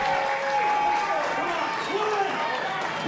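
Wrestling event crowd cheering and applauding: a dense, continuous roar of clapping and shouting that stays steady and loud throughout, with a commentator's voice running over it.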